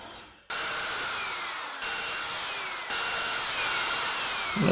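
A power drill whines steadily while boring out a broken bolt during a Jaguar S-Type restoration, a loud, continuous high-pitched grind that pauses briefly and restarts.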